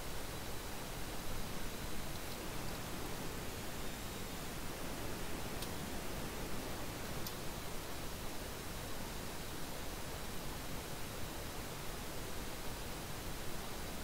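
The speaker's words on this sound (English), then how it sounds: "Looks like we made it out of the rain." Rain in a flight simulator cockpit, an F/A-18 Super Hornet on a co-op strike mission, comes through as a steady, even hiss of broadband noise, faint and unbroken with no voices.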